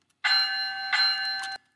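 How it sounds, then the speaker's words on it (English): A gong effect from a LokSound model train sound decoder rings out in two loud metallic strikes about two-thirds of a second apart, each with a sustained ringing tone, then stops abruptly. "Let's listen to the gong."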